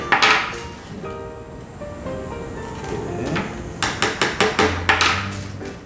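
A hammer taps pins into a DIY zebra lamp. Scattered knocks and handling sounds build to a quick run of sharp, close, evenly spaced taps near the end.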